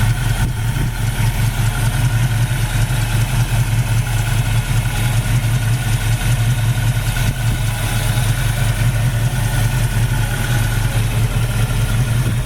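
A 1967 Ford Mustang with a small block Ford V8 and four-barrel carburetor idles close by, a loud, steady, even rumble with a fast regular pulse and no voices.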